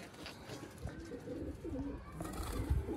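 Rare pigeons coo in a rooftop loft in Sialkot: soft, repeated low burbling calls close by over a steady background murmur, with no talk.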